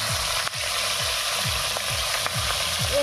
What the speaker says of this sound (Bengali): তেল গরম হয়ে গেছে, তেলের মধ্যে দেব শুটকি মাছ।